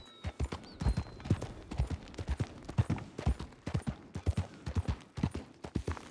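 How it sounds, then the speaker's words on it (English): Horse hooves clip-clop steadily in a video game. The rapid, even hoofbeats are fairly close and carry on through the whole stretch with no talking over them. "the horse wanted to go around."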